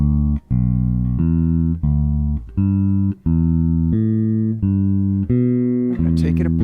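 Bass guitar runs through a G pentatonic exercise, plucking a steady sequence of single sustained notes with brief gaps between them, close and clear with no talking.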